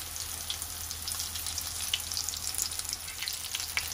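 Potato vegetable cutlets frying in a pan, with a steady, fairly soft sizzle of oil and scattered small crackles and pops throughout, no voices.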